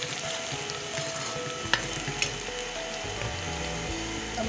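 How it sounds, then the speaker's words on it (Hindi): Onions sizzle steadily in a hot pan with a constant crackling hiss, and a couple of brief clinks from a utensil stand out near the middle. "प्याज हमारा फ्राई हो गया"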